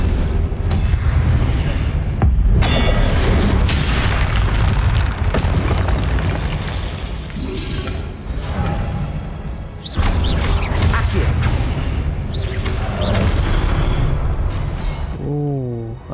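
Confringo fire-spell blasts go off in Hogwarts Legacy combat: loud, dense booming explosions and rumbling that run almost nonstop, broken by a couple of brief pauses.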